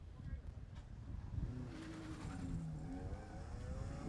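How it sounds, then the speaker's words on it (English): A 2003 Toyota Matrix XRS with a dual overhead cam engine revs at a race event, its drone climbing and wavering in pitch, with some crowd or voice noise mixed in. "he's got the XRS package on that one, so he should be able to rev it up pretty high"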